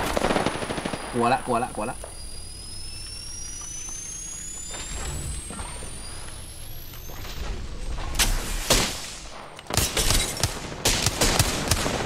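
Gunfire in the Apex Legends video game, bursts of automatic shots and loud cracks later on, mixed with game effects and excited shouting voices throughout.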